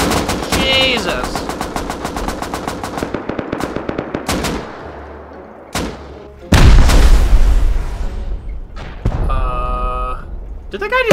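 Rapid automatic gunfire and loud explosions, including a rocket blast, ring out in a Rust video game raid, with bursts of repeated shots followed by a heavy boom near the middle; voices talk over parts of it.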